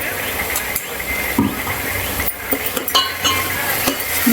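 Ginger-garlic paste sautéing with onion in a pan for pav bhaji, a steady sizzle with a spoon scraping and clinking against the pan, close and continuous.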